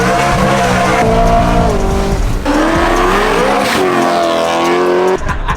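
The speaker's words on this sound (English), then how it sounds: "Frozen silver E92 M3 with a level 4 Active Autowerke supercharger" A supercharged frozen silver BMW E92 M3 with a level 4 Active Autowerke supercharger, tuned to about 700 hp, roars loudly and close, its engine pitch climbing and dropping through repeated revs before cutting off abruptly near the end.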